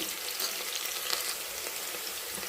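Chopped onions frying in a pan and being stirred for a cabbage and chana dal curry, giving a soft, steady sizzling hiss with faint crackles at low volume throughout.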